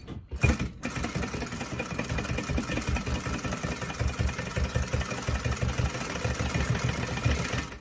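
A sewing machine stitching folded-down fabric for a cloth face mask, running continuously and close with a rapid rhythmic needle chatter after a brief start.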